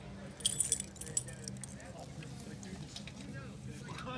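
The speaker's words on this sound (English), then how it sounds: "Take the keys out of my pocket." Keys jangle briefly as they are pulled from a pocket beside a restored motorcycle in a garage, a quick metallic clinking under ongoing conversation between men.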